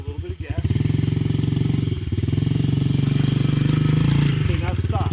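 A rental dirt bike's engine running close by with a steady, throbbing mid-pitched putter that holds and rises slightly as light throttle is applied, then drops off near the end.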